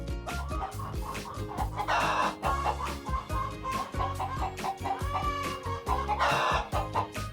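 A hen clucks repeatedly over rhythmic background music, the clucks coming in short bursts throughout.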